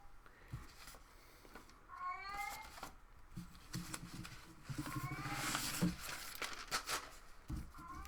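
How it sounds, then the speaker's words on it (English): A pet cat shut outside a closed room meows repeatedly, the calls muffled and moderately distant, rising and falling over faint room noise across several seconds. "I don't know if you all can hear my cat meowing because she's locked outside of the room."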